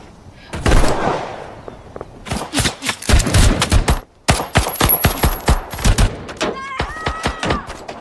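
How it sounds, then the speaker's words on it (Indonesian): A gunfight between a sheriff and a man in the film Cop Car: rapid bursts of sharp gunshots, some spaced and some in quick volleys, loud and close, with brief pauses between exchanges. "Terjadi baku tembak antara si Sheriff dengan pria tersebut"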